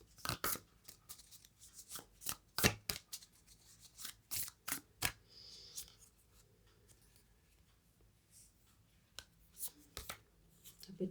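Tarot cards being shuffled by hand, giving a run of sharp, papery riffling snaps and flicks in uneven bursts, close and fairly quiet, with a few soft handling rustles between them.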